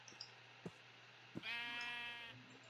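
A Minecraft sheep bleats in the video game, two short bleats followed by a longer wavering one, clear and isolated with faint game clicks around it and no talking.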